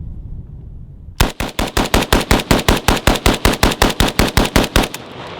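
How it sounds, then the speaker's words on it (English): An AK rifle chambered in .223 fires about twenty rounds in rapid succession into a berm, with loud, close, evenly spaced sharp reports and no talking. "I'm just gonna rip it into the berm."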